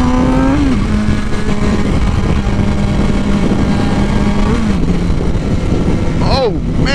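A full-fairing sport motorcycle engine holds a steady close idle-to-cruise drone, shifts pitch near five seconds, then revs with a rising and falling sweep at the end, continuous and loud throughout.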